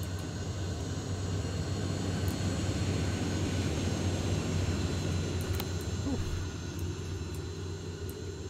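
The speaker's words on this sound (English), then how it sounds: "It must have been a surveillance drone." A surveillance drone in the video game Terminator Resistance drones steadily overhead, a continuous aircraft-like engine hum and rumble that holds at an even level throughout, with no one speaking.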